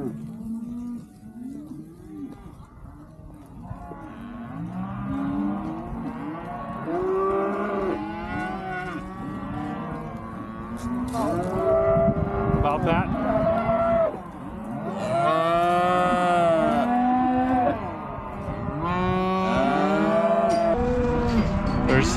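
Cows and calves at a Montana ranch round up during shipping time, many overlapping moos and bawls near and far, loud and continuous with a faint voice underneath.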